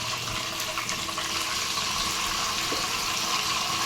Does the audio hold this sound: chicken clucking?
no